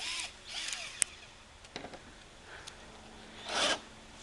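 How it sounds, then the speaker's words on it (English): A power drill is run in short, uneven bursts on a wooden fort during a rebuild, with faint clicks and rustles between the brief whirring spurts, nearby and moderately quiet. "Here, let me drill it."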